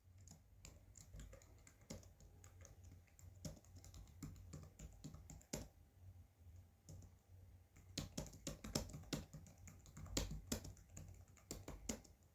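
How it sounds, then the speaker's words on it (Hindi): Fingers clatter on a computer keyboard during a timed typing test, a fast irregular stream of close, crisp key clicks with brief pauses and heavier bursts near the end. "हमने यहाँ पे क्लिक किया और बस हमने टाइपिंग करना शुरू कर दिया"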